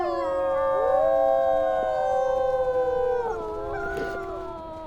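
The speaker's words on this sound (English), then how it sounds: "Thank you, Flint, for the howl." A wolf in the WolfQuest video game lets out one long, clear howl that rises and then slowly falls in pitch, close and loud with no voices over it.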